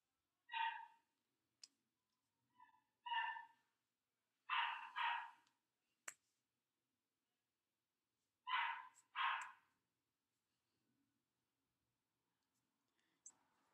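Indoor dog barking in sharp single and double barks, spaced out with silent gaps, fairly close, with a few faint clicks in between.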